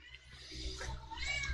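A cat meows faintly and briefly in a room, a soft drawn-out call over low background rumble.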